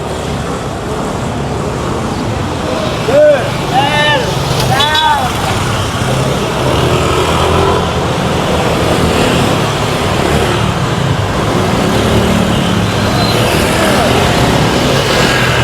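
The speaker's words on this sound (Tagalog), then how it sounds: "Yung maingay na tricycle." A noisy motor tricycle drives through road traffic, its rough engine drone blending with steady, loud traffic rumble throughout, while a few brief voices or tones rise early on.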